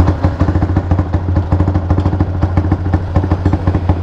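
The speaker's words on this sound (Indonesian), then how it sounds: "Start motor dulu." A motorcycle engine is started and runs at a close, loud, even idle, its rapid pulsing beat steady throughout with no voices.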